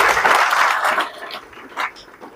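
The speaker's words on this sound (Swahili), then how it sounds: "Jipigieni makofi jameni." Audience at a Meru dairy farmers' workshop bursts into applause, a dense clatter of many hands that swells briefly then thins out and fades within a couple of seconds, with scattered voices mixed in.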